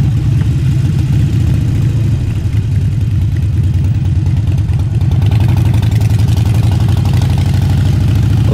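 A Harley motorcycle engine runs somewhere in Los Angeles. It gives a loud, steady, low throbbing rumble that holds throughout with a slight lift in intensity partway.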